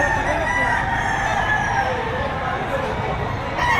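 A rooster crows loudly and continuously against a busy, noisy background at a livestock auction market in Padre Garcia, Batangas, with other fowl clucking nearby and faint voices mixed in.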